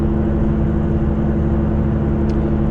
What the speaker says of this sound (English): But the car is a lot quieter with the new tires on.